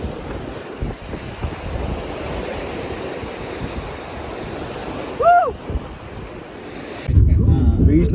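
Ocean surf rolls in at Yarada beach in Vizag, a continuous broad wash of waves buffeted by wind on the microphone, with a brief high call midway and a louder gust near the end.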